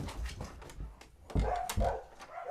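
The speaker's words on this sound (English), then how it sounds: "they hear the neighbor's dog barking at people going down" A neighbor's dog barks a few times at people passing by, heard at moderate distance indoors with short irregular bursts and background noise between them.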